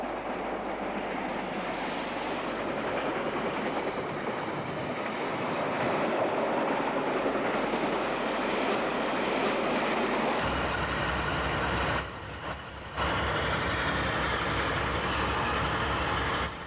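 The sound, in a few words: Swindon intercity diesel unit arriving at Paddington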